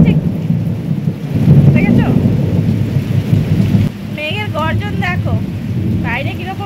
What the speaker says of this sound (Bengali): বাইরে বৃষ্টি হচ্ছে, দেখেছো মেঘের গর্জন দেখো,